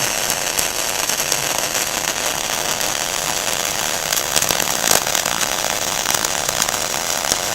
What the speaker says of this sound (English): I'm going to watch the puddle get a little bit bigger. and weld up onto the previous weld.